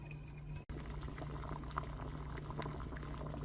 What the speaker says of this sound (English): So we're gonna let it boil for a while.